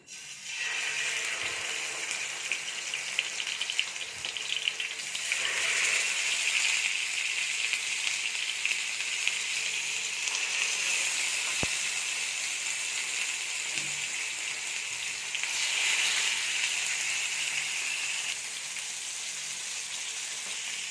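Fish fries in hot oil on a tawa, a steady, bright sizzle that stays close and continuous throughout, swelling slightly at moments as the pieces settle, with no talk.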